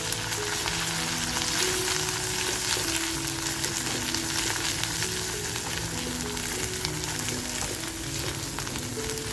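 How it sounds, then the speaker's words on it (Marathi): Homemade masala paste frying in a pan for a village-style potato and drumstick curry with salted dried fish, a dense continuous sizzle with stirring scrapes, no voices. "याचा छान फ्राय करून घेऊया."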